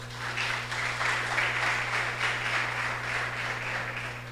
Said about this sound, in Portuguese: Aplaude o Senhor, irmãos.